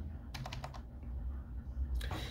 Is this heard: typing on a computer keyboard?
yes